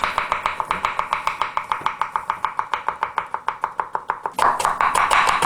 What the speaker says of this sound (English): Let's go and chop some more veg while we're waiting.